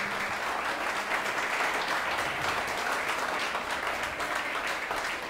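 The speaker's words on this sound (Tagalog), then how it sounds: "Palakpakan po natin si Jesus." A church congregation claps during a Sunday worship service, a close, dense burst of applause held steady throughout.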